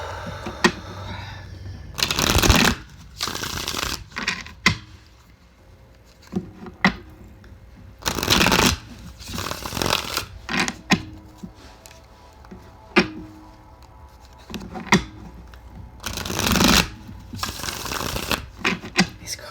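Large oversized tarot cards being shuffled by hand, repeated loud close riffling bursts separated by quieter handling and tapping between rounds, with no talk over them.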